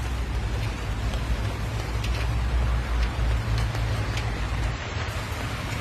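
Steady heavy rain falling in a dark forest, a dense continuous hiss with a deep low rumble underneath, near and loud throughout with scattered sharper drop hits.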